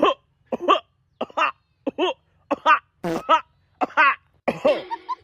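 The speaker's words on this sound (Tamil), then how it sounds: "இருமல் டாக்டர்." Someone coughs repeatedly in a comedy sketch, a rapid series of sharp, close coughs in short bursts with brief gaps, ending in a rougher, raspier fit.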